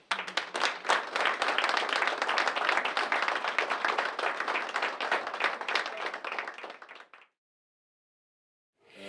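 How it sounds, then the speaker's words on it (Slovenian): A large audience bursts into sustained, dense applause at a public presentation of the first enrolled generation's work, steady for about seven seconds before cutting off abruptly into silence. "še en aplavz."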